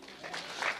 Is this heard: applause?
yes